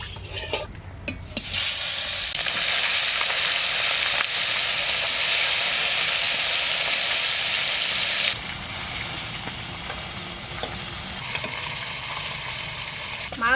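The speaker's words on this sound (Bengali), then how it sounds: "কড়াই গরম হয়ে গেছে, সরষের তেল দিয়ে দেবো" Koi fish fry in hot mustard oil in a wok, a loud, close sizzling hiss that dominates for several seconds before settling to a softer, steady crackle.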